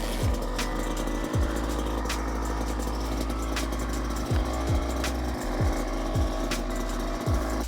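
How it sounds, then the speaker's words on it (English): A Kawasaki KX85/KX100 two-stroke dirt bike engine runs to warm up before an oil change, a close, loud, continuous buzzing idle with repeated quick throttle blips. "Step 2 is to start and warm up your bike for about 3 minutes or so, or until your motor is warm to touch"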